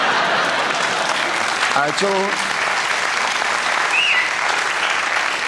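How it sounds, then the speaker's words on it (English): A studio audience on a 1989 late-night television talk show applauds steadily and loudly throughout, with a brief spoken word from a man rising over the clapping. "they're clapping like they had some sense out there"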